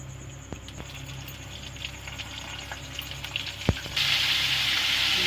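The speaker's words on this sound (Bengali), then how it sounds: "আমাদের তেলটা গরম হয়ে গেছে আমি একে একে ভেজে নেবো" Besan-coated lote (Bombay duck) fish frying one by one in hot oil in a kadai, a low steady sizzle with a few clicks and a sharp knock, swelling into a louder bright crackle near the end.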